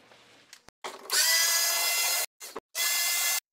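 A power driver whirs in several short bursts close by as screws come out of a portable air conditioning unit's casing, with brief pauses between runs and no talking.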